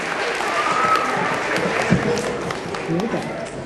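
An audience of boys and girls at an indoor assembly claps in a steady, sustained wash of applause, with faint voices mixed in.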